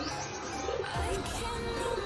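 Chutial breed pigeons coo briefly in their coop, a soft low warble repeating over about two seconds against steady background hiss.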